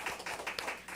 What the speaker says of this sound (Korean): 우리 박수 한번 쳐주시기 바랍니다